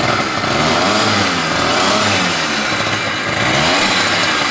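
A Pulse Force 50cc two-stroke motorbike engine revs loudly and steadily up close, its buzzy note rising and falling without a break and with no voices.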